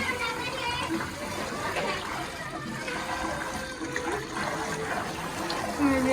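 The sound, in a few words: washing something under running tap water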